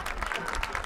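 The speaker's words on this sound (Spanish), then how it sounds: "Otro aplauso, por favor, para José Pérez y Moisés Ortiz" A live audience in Las Vegas claps for Mariachi Sol de Mexico musicians, a short, dense burst of applause with a voice faintly audible underneath.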